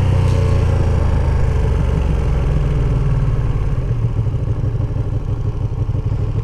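A 2023 Ducati Panigale V2 motorcycle engine runs steadily and loud while riding through city streets, a constant low throbbing drone with wind rush and no voices.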